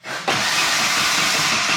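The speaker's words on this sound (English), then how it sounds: "Oh, dude, it almost started." Up close and loud, a car engine running on vodka-mixed fuel cranks after a short pause and churns roughly, nearly catching but never settling into a clean idle.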